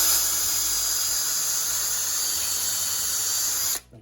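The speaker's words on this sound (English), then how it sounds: "Just use your drill, follow the hole through" A power drill bores through a hole in a jig clamped to the side of a board, cutting into wood for an outdoor coffee table. It makes a steady, high, whining buzz that runs close and loud for several seconds, then cuts off abruptly.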